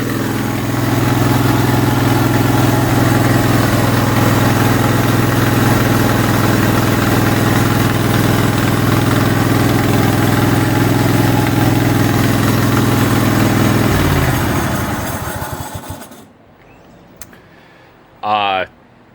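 A garden tractor engine awaiting head gasket replacement idles loudly and steadily up close for about fourteen seconds, then shuts down and spins to a stop, leaving near silence with a brief faint noise near the end.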